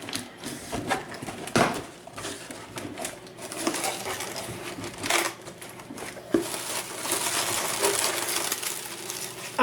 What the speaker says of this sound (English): With the help of Rusty, pop the box open